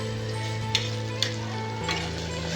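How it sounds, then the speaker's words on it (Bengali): Spiced food frying in a pan gives off a steady close sizzle, with a couple of sharp clicks from a spoon stirring and mixing it, plus a faint background hum; no one speaks. "তারপর একটা নেড়ে চেড়ে নেব, সুন্দর করে একটু মিক্স করে নেব।"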